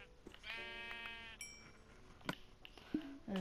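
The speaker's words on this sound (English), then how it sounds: "Oh, sheep." Sheep in the Minecraft video game give several short bleats spread over a few seconds, faint and somewhat distant against a quiet background, with no talk in between.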